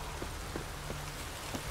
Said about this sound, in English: Like rain.